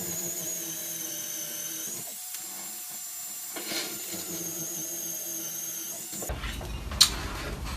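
A power drill bores a hole into a wall for a mount screw, a steady high whine running close and continuous for about six seconds before it stops and leaves a brief clatter.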